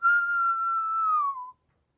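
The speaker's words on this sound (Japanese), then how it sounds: "口笛は吸っても吹いてもできます" A single sustained whistled note, steady and close, held for about a second and a half before sliding slightly down and stopping.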